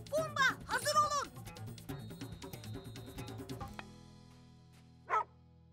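A small cartoon dog barks in a burst of yips amid lively character voices and music, followed by a single short bark alone near the end.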